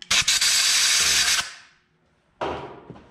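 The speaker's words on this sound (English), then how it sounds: "Make sure to really degrease all that with some carb cleaner." Aerosol carb cleaner sprayed to degrease a head bolt stud and thread insert on a BMW M54 engine, one long loud hiss, a pause, then a second shorter blast, close by.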